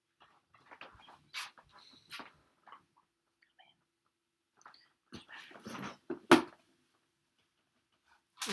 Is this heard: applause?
no